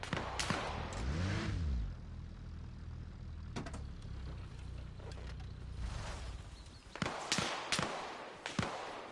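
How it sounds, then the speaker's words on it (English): Gunshots in the military shooter Arma Reforger, several sharp distant cracks scattered among vehicle engine rumble and mechanical clunks, heard amid game ambience without talk. "Oh, there is a gunshot."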